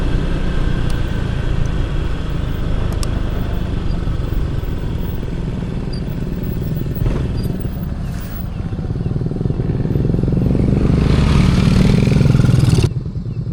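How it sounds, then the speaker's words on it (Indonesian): A motorcycle passing at night on the Puncak 2 mountain road, heard over the constant rumble of the travelling vehicle's own engine and road noise, swelling loud and close near the end. "Aduh, ada motor."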